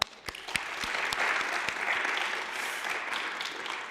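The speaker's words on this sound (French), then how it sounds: "On peut l'applaudir pour ça." An audience applauds a young Eloquentia Brussels laureate at a debating final. The clapping is dense and steady, with a few sharp louder claps standing out near the start.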